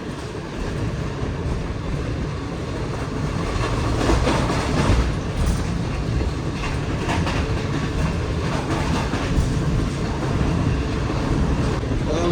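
Passenger train cruising above 100 km/h on the Sangla Hill–Chichoki branch line, heard from inside a coach: a steady, continuous roar of wheels and rail with faint clickety-clack rhythm, loud and unbroken throughout.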